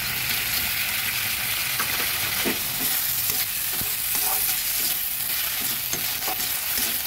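Soaked Gobindobhog rice fries with spices in a hot pan, giving a loud, continuous close-up sizzle with frequent scraping stirs throughout.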